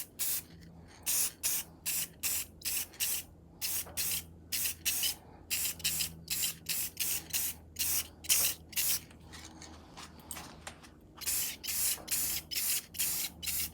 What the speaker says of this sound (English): I'm going to hit them with just a really mist light coat of some clear, just to maintain that silver color